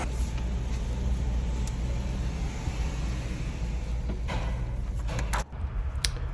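Worn, dry constant velocity joint on a Jeep JK giving a steady, loud mechanical drone under road and engine noise, with a few sharp clicks near the end.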